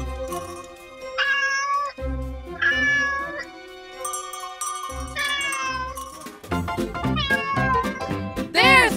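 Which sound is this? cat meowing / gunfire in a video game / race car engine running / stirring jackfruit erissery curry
cat meowing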